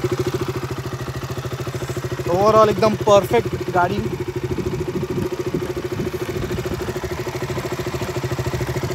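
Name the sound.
KTM 200 Duke motorcycle engine idling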